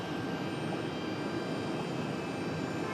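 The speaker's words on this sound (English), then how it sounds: "That one leaving a 737-900ER, 11 years of age" A Boeing 737-900ER jet departs for Los Angeles, its engine roar a steady, broad rumble that holds constant and fairly distant without any talk over it.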